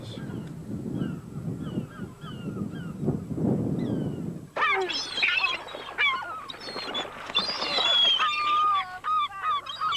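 Harsh, squawking seagull calls erupt in a noisy flock after a muffled rumbling opening, loud and overlapping, some close and others farther off.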